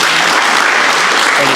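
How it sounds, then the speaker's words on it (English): Audience at an electric vehicle association meeting in Queensland gives a round of applause, loud, dense clapping close by and sustained throughout with no pauses. "a round of applause for them"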